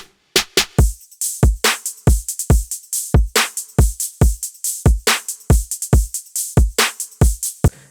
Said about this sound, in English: The drums by themselves, they sound like this.